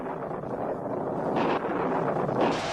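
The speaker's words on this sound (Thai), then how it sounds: "แล้วจู่ๆก็เกิดลมพายุรุนแรงพัดเข้ามา ทำให้เรือล่ม" Cartoon storm wind sweeping over the sea as a boat is capsized, a steady broadband roar with two louder gusts swelling near the middle and end, no voices.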